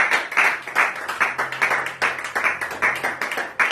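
A congregation at a Sunday prayer service claps in quick, irregular bursts for a few seconds, close and fairly loud, with no one speaking over it.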